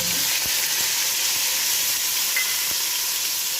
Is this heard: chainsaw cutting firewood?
no